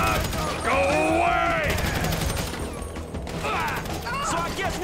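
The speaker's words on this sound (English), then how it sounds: "We're shooting our way out of here." Gunfire crackles through a shootout in Grand Theft Auto V, dense rattling shots and mechanical clatter mixed with shouting voices and tonal game sounds, loud and continuous throughout.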